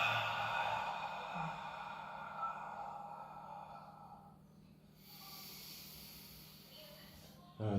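A long, slow exhaled breath during a breathing exercise, a soft airy hiss that gradually fades over several seconds, close and quiet, followed by a brief lighter breath near the end, without speech.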